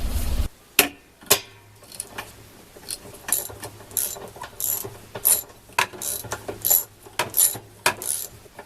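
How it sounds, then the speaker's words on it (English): A socket wrench with an extension ratchets a nut out of a washer's agitator assembly, giving a series of sharp, close clicking bursts in an uneven rhythm with short pauses between strokes. "We're going to have to get a socket wrench with an extension because we've got to get that nut out of there"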